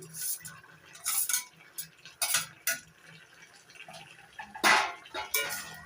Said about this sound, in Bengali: নাড়াচাড়া করে মিশিয়ে নিচ্ছি লাউয়ের সঙ্গে